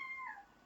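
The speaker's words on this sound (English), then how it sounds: "my cat's trying to get some attention" A pet cat meowing for attention in a home garage, a single short, faint rising-then-falling meow close by.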